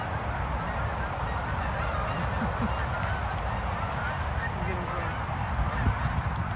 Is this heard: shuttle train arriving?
no